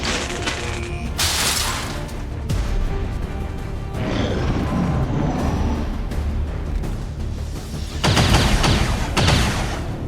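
Gunfire rattles through an XCOM 2 battle: loud, dense bursts of automatic fire and crashing impacts come in several waves, with the heaviest bursts near the start and end.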